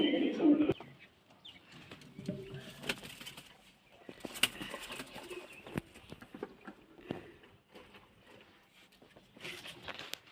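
Soft cooing of kept pigeons being fed grain and water at a moderate distance, with scattered pecking and faint flutters in a quiet outdoor setting.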